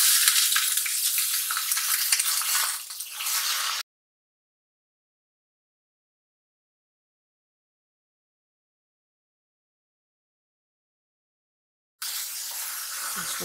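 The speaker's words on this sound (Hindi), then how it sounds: "इसको थोड़ा सा फ्राई करेंगे।" Onion paste with a piece of cinnamon fries in a pan, giving a loud, dense, hissing sizzle close up that runs for a few seconds, breaks off into a long silence, then starts again briefly, with no talking.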